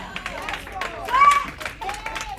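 Audience clapping at a women's empowerment event, scattered rhythmic claps mixed with crowd chatter and excited voices, one shrill cheer rising briefly in the middle.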